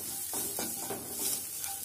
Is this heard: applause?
no